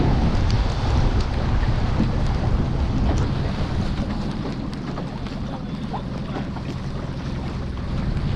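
Steady rain and gusting wind on an autumn fishing and hunting trip by boat, a dense continuous wash of noise with buffeting wind on the microphone and a low engine rumble, loud and unbroken throughout.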